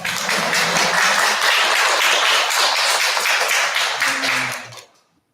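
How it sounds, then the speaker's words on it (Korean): Audience applause at a Buddhist Diamond Sutra lecture, a loud, dense round of clapping lasting about four seconds before quickly tapering to silence, with a faint voice beginning near the end. "이게 이제 여러분들 박수 소리를 들으니까요"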